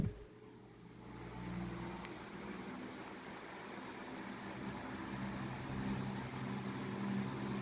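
A 1985 Dayton Lasko 16-inch oscillating table fan (model 4C508) runs on medium with a steady whooshing airflow and a soft motor whine, close and constant with no talk.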